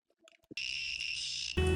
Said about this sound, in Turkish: hoparlörden önce buzzer takıp deneyeceğim